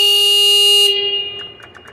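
A Yale forklift's electric horn is pressed once and gives a loud, steady buzzing honk for almost a second, then cuts off abruptly and leaves only faint background clatter.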